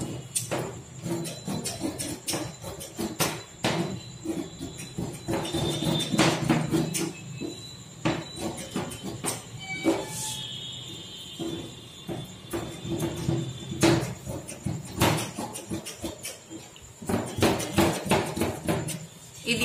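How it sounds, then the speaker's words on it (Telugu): Scissors cutting the back panel of blouse fabric on a table, a busy run of snips, knocks and rustling slides with irregular clacks and brief squeaks throughout. "ఆ తర్వాత ఇప్పుడు వెనక పార్ట్ను కట్ చేస్తున్నాను."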